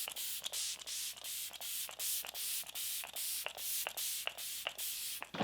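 Flower Beauty Seal the Deal hydrating setting spray spritzed across the face, about a dozen short, evenly spaced hissing sprays in a steady rhythm, close and soft, with no talking.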